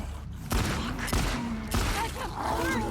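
Three heavy shotgun blasts spaced about half a second apart in the survival game Grounded, each a sharp loud crack over a continuous ambient game background.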